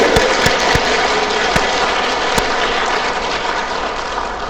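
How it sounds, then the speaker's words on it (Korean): Dense, steady applause from a church congregation at Toegye Catholic parish in Chuncheon, filling the whole stretch with close, loud clapping and a few sharper individual claps standing out. "미래의 춘천교구를 위해서 박수 한번 쳐드릴게요."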